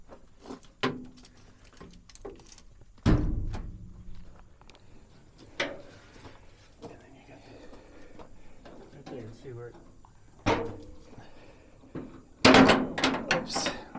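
Latches and the hood of a two-door Mercedes being opened for an oil and filter change: scattered clunks and knocks, a sharp thump early and a cluster of clattering at the end, with quiet handling noise between.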